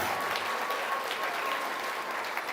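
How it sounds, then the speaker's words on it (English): Applause from a fair audience at goat and swine showmanship finals, a steady dense clatter of many hands filling the space for a couple of seconds, with a faint tonal whistle or hum running beneath. "Let's give this young lady a big round of applause."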